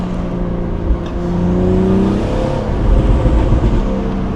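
A BMW M235i with a sports catalytic converter revs loudly nearby. A deep, droning exhaust rises and swells in pitch, with a few brief crackles that may be exhaust pops.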